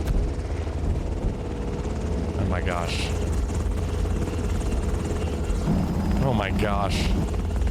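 Helicopter engine and rotor drone running steadily close by at a private motocross compound, with excited voices exclaiming over it.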